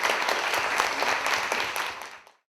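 Children and adults at a children's municipal council ceremony applaud together in dense, even clapping that carries on briefly and then cuts off abruptly.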